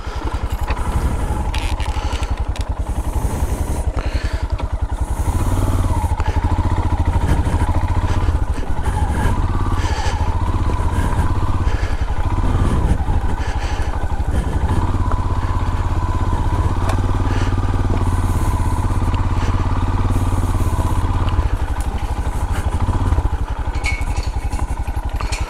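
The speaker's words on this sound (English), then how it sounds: "get on the old Royal Enfield and chug off home" An old Royal Enfield motorcycle chugs away in a woodland, its steady low engine thump running throughout, loud and close with some clatter and scraping over the top.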